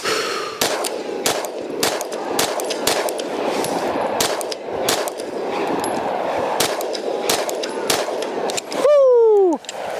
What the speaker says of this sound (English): These are first rounds. Let's see how it does.